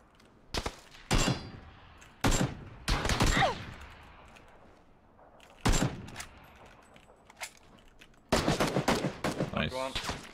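Sharp bursts of automatic rifle fire in PUBG, several separate volleys and short strings of close shots spread across the stretch, with quiet gaps between and a dense rapid burst near the end.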